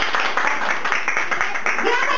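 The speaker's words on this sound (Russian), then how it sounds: "похлопаем наверху!" Hands clap in a fairly even rhythm at a lively Russian-language birthday gathering, loud and continuous throughout, with voices talking over the clapping.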